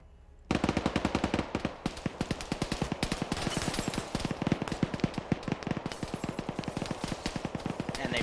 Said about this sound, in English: I'm going to order another suppressive fire.